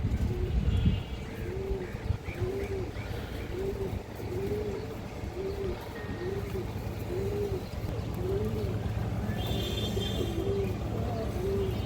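Pigeons coo in a regular series of rounded, rolling calls repeating about once a second, close and steady over a constant low background hum, with a sharp knock at the start.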